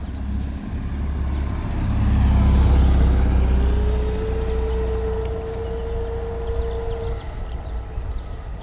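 An EcoReco M5 electric scooter being ridden outdoors gives a low rolling rumble with a rising and falling motor whine, steady and close, with no talk over it.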